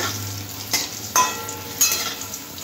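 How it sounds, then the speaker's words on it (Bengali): Potatoes fry with turmeric powder in a pan, a soft continuous sizzle broken by three spatula stirs that scrape and clink at regular intervals. "হলুদ গুঁড়ো দিয়ে আলুটা একটু ভালো করে লাল করে ভেজে নেব।"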